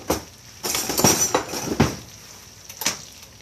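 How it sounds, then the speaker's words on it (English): A metal spoon clinks and scrapes against a pot while stirring fresh linguine, several bright taps and knocks spaced irregularly over a quiet background. "Let me get a spoon and stir it up."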